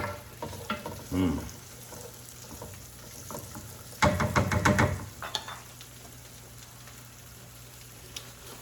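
Garlic and yellow onion are stirred together in a hot pan for chicken farfalle. A low steady sizzle runs throughout, broken by a loud burst of scraping and frying around the middle and a few short clinks of the utensil.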